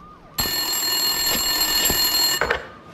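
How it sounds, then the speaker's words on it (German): An office telephone in the video game Max Payne 2 rings with a bright, continuous electronic trill lasting about two seconds, close and clear, then cuts off. "Wintersons Telefon läutete."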